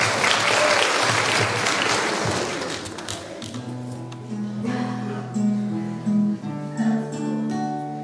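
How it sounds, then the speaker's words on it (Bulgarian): Audience applause fills a school Christmas concert hall, loud and dense for about three seconds, then fading as a pop song with singing begins and plays over the thinning claps. "Аплодисменти"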